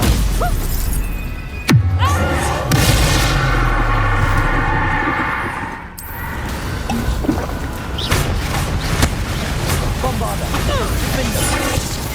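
A Bombarda spell explodes in Hogwarts Legacy with a sharp, shattering crash, followed by crackling debris and rumbling noise while voices talk over the scene.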